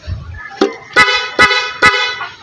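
A Honda ADV160 scooter's PIAA horn, wired through an interrupter relay, honks three times in short, evenly spaced blasts, loud and close, with a brief softer beep at the start.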